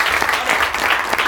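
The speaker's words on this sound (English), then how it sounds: "Give yourselves a big round of applause." An improv show audience breaks into dense, steady applause, loud and close throughout the short stretch with no talk over it.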